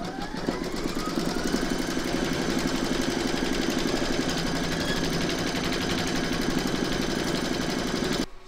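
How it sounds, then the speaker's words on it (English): An embroidery machine stitches the second round of a large square scallop placemat, hoop loaded with fabric and batting, giving a steady, close, rapid mechanical chatter that runs evenly throughout before stopping at the end. "Pop your hoop into your machine and stitch round number two to secure them."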